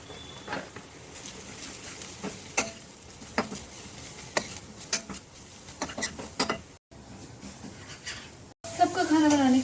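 Bitter gourd (karela) frying in a pan with garlic as ground spices go in, giving a steady hiss broken by scattered ticks and light clinks of a utensil against cookware.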